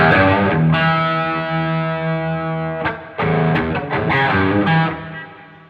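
An electric guitar plays through a Joyo Bluejay Bantamp with a golden horse overdrive pedal engaged, producing loud, sustained distorted chords. Each chord rings out before a brief break, and then gritty strums resume with no voice over them.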